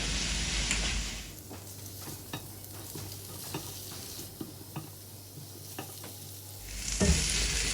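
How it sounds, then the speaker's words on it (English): Fried beef is stirred through sauce in a pan with a steady sizzle and repeated spoon scrapes and clinks. Louder frying noise sits at the start and end. "you're going to coat this to mix completely and then set this aside"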